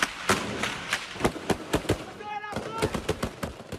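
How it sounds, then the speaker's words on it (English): Sharp gunshots crack in an irregular volley during a street gun battle in Haiti, loud bursts repeating about every quarter second to half second, with a voice briefly audible mid-clip. "Gun battles rage on the street outside one of Haiti's biggest hospitals."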